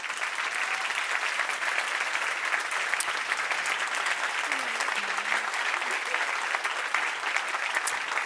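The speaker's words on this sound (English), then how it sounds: "Please give a round of applause." Audience applause at a science summit award ceremony for pitch competitions, a steady dense wash of clapping that holds evenly loud throughout without pause.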